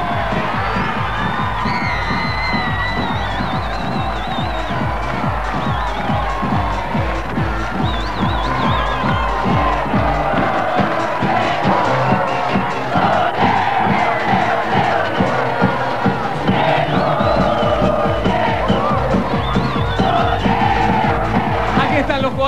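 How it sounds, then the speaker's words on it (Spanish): Studio audience cheering and applauding on a 1994 Argentine TV variety show as the Argentina team led by Diego Maradona enters, a loud continuous roar of shouts and whoops over rhythmic music, with voices throughout. "¡Fuerte el aplauso para Argentina!"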